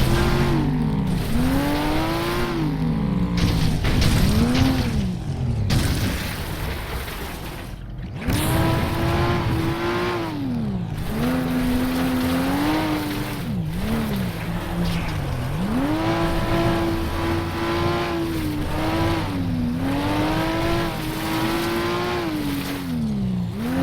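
Race cars in the FlatOut racing game roar continuously, engines rising and falling in pitch through gear shifts and revs, loud and close throughout with brief crashes and scrapes.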